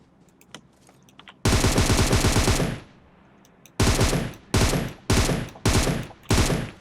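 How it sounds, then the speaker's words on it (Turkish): Automatic weapon fire in PUBG Mobile: a long sustained burst, then four shorter rapid bursts in quick succession, loud and close, with no talk. "Boşu boşuna sıkıyorlar beni"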